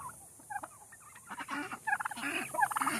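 Young domestic turkeys gobble and chatter in quick, warbling bursts, several birds calling close by in irregular overlapping rounds, with no people speaking.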